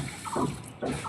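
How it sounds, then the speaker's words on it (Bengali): Water left over from washing leafy greens is poured onto the base of garden plants, making a continuous splashing, trickling flow that surges twice and carries no speech. "তো শাক ধোয়া জলটা আমি গাছের গোড়ায় দিয়ে দিলাম"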